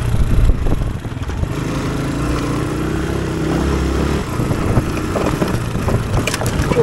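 A Honda motorcycle engine drones steadily as it is ridden, a continuous low, close rumble with slight swells in pitch and load, and no talk over it.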